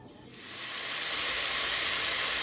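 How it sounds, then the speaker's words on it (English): Steady loud sizzling hiss of food frying in a hot pan, rising quickly and holding constant. "All that sizzling can mean something bad about to happen."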